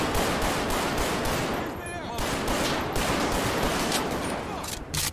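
Sustained rapid gunfire rattles loud and close in a GTA 5 police shootout using the LSPDFR mod, continuous bursts overlapping with almost no pause across the whole stretch.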